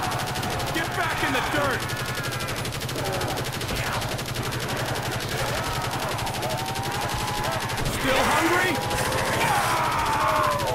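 Sustained automatic gunfire from a sentry gun in Call of Duty custom Zombies on a Pokemon Stadium map, rattling continuously through the whole stretch amid game effects and excited voices talking over it.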